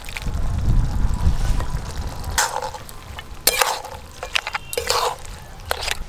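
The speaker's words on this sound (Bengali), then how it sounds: "খুন্তি দিয়ে সবকিছু একটু ভেঙে ভেঙে দেব।" A spatula stirs and breaks up spinach with fried brinjal, small prawns and lentil dumplings in a pan, giving a soft low sizzle that then gives way to sharp, close scraping clatters and knocks against the pan in irregular bursts.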